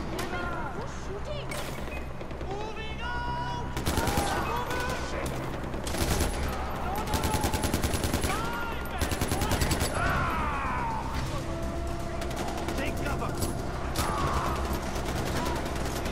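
Gunfire in the Far Cry 4 video game, with bursts of rapid shots and single cracks scattered across the scene over game sounds, while a voice talks.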